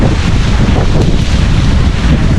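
Strong wind battering the microphone out at sea on a small fishing boat, a continuous loud roaring rush with no break, masking everything else.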